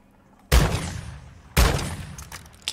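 Two loud, close shotgun blasts about a second apart in a Modern Warfare 2 firing range, each a sharp boom with a short decaying tail, followed by a faint smaller click.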